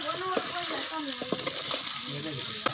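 Masala is stirred into chicken feet frying in a pan, giving a close, steady sizzle with scraping stir strokes and a sharp clack near the end.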